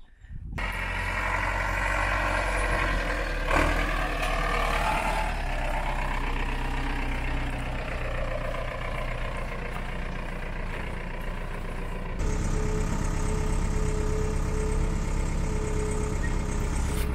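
An MB-trac 900 tractor carrying a Hassia potato planter drives slowly across a field, its diesel engine droning steadily and loudly throughout, with a brief knock partway through and a rise in hiss near the end.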